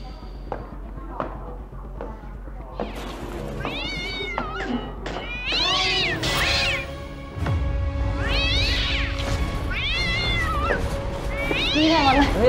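A cat meows repeatedly and loudly up close, its rising, wavering cries scared of water, with scuffling taps and people talking over it throughout.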